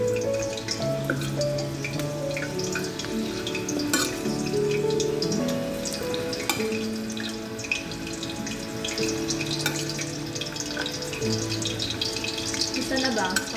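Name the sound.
meatballs frying in a hot pan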